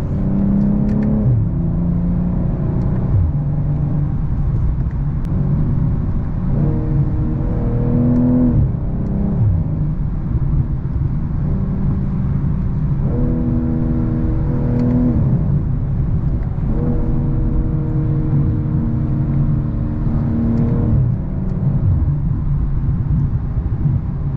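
A 2022 BMW M240i revs hard, loud and close, its engine climbing and dropping in repeated sweeps with exhaust pops and bangs crackling between rises for over twenty seconds, with no voices.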